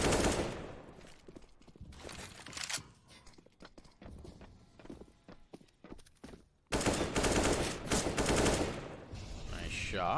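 Bursts of gunfire in Counter-Strike: Global Offensive during a competitive esports match, rattling shots and clatter in clusters, with a loud sustained burst near the end and commentary-like voices mixed in.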